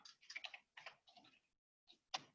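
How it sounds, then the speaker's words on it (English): Light clicking keystrokes on a computer keyboard come in short quick bursts, then a pause and a final couple of taps, very faint and close with nothing else audible. "Now I'm gonna start typing."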